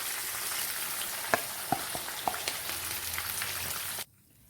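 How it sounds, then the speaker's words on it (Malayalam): Chicken frying crisp in a pan of oil, a dense steady sizzle with a few sharp pops and spatters, ending abruptly in near silence. "ചിക്കൻ നന്നായിട്ട് മൊരിഞ്ഞു വന്നിട്ടുണ്ട്"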